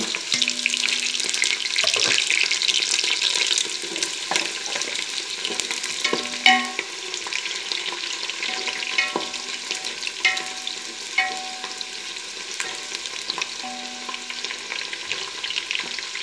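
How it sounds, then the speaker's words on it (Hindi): Browned onions and garlic cloves fry in a pan for daal mash, a steady close sizzle broken by repeated clinks and scrapes of stirring, continuous throughout with no speech. "इसे अच्छे से कर लेंगे फ्राई।"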